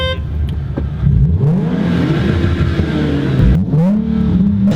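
Toyota Supra with an aftermarket exhaust revving hard, loud and close, the engine note rising and falling through several sweeping revs with a brief dip near the end.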